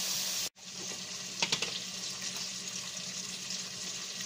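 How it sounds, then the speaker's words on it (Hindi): Potatoes with crushed chili and turmeric fry in a pan for aloo matar sabzi, a steady close sizzle with a brief break near the start and a few stirring clinks. "फ्राई करेंगे।"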